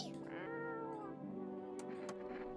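A cat meows in the horror video game No, I'm not a Human, a drawn-out harmonic mew followed by a softer second call, close and clear over a low ambient hum.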